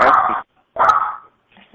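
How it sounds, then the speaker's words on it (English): A dog gives two sharp, loud bursts of barking close by, separated by a short gap, followed by a fainter whimpering tail, with people talking on a teleconference line. "There's some unhappy dog."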